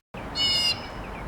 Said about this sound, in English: Got some bird activity here in the yard.